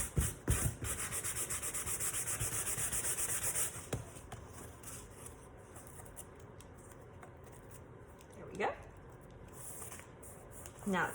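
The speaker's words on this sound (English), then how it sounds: "I'm gonna take my sanding sponge right here and just sand off the edges" A sanding sponge rubs along paper edges in close, quiet strokes, a few soft scrapes with brief louder swipes between them, and no one talking.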